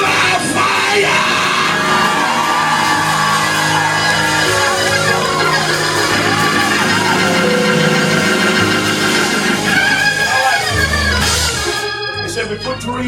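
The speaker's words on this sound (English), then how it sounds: "Give me 16 people that'll scream loud fire!" A church congregation yells "fire" together over loud music, a dense crowd roar running for the whole stretch and dropping off near the end.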